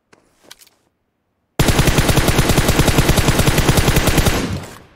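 A DP-28 machine gun in PUBG Mobile fires a long, loud, rapid burst of evenly spaced shots after a brief quiet lead-in with faint clicks, then stops abruptly.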